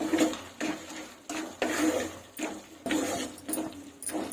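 A spoon stirs spicy karam boondi into a simmering curry in a cooking pot, making rhythmic scraping and sloshing strokes roughly once a second, close up with no talking.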